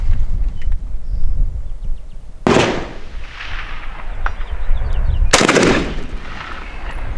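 Two loud, sharp rifle shots from a California-legal AK-47 firing 7.62x39 rounds at a target, each crack trailing off in an outdoor echo, spaced about three seconds apart over wind noise.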